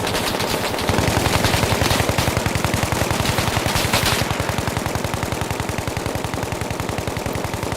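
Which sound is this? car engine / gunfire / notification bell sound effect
gunfire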